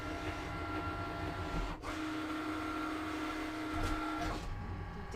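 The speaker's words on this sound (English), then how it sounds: "Press the load button. Press the go button. The little C Cricut button." A Cricut Maker cutting machine loads its mat and starts a cut, giving a steady mechanical whir with a rhythmic rattle and a brief clunk, close and alone with no talk.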